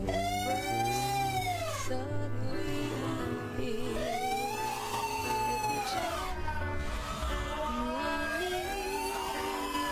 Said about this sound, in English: What is with this fucking siren in my ears